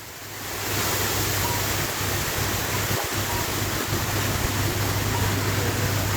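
Heavy storm rain in Carlingford lashes down sideways in a loud, continuous broadband roar, with wind-driven gusts and a few low thumps against the microphone.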